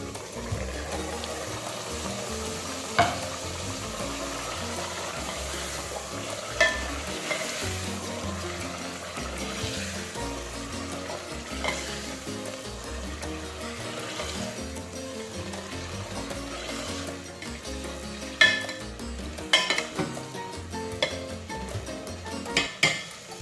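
Mustard greens (saag) cooking in a pan, stirred with a utensil that clanks and scrapes now and then over a steady low sizzle, with sharper metallic knocks toward the end.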